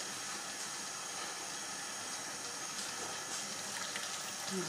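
Water pours through couscous in a strainer as a faint, steady rushing flow that continues without a break for several seconds. Nobody speaks.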